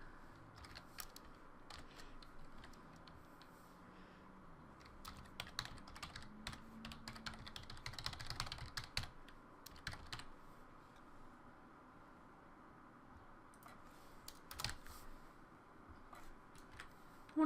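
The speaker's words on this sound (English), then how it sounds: "One of these days I'll figure out typing." Quiet clicking of keys on a computer keyboard, irregular bursts of typing with short pauses, close and faint, no talking.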